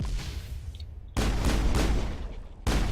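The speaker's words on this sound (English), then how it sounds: "I'm shooting!" Rapid in-game gunfire from the shooter Mass Effect, loud and dense, with bursts of shots that pause briefly near the middle and then resume as sustained fire to the end.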